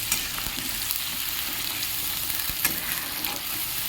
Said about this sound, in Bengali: সাথে আছে পোস্ত মশলা বাটা গোলা জলটা ভালো করে কষবো